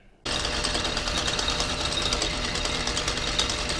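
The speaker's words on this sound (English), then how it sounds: "And I've been drilling." A metal workpiece is drilled on a lathe while making a die holder, giving a steady, loud mechanical whir and grinding that starts abruptly and runs without pause, with no voices over it.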